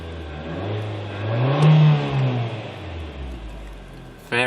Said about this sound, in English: Free revving engine. You can definitely hear turbo whistle.